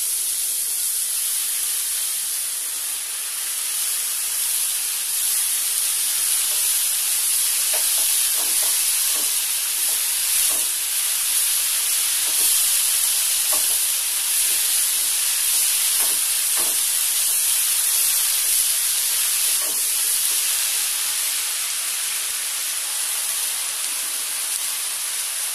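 Jute leaves hiss and sizzle steadily in a hot pan with shrimp, a loud continuous frying spray with faint pops running throughout, no voices.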